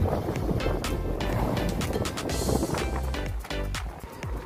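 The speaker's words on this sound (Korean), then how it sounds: "바나나 보트 수상 레저 체험 끝" A banana boat ride on the sea at Jinha Beach in Ulsan: motor drone, wind buffeting the microphone and rushing water blend into a loud, continuous roar with sharp splashes.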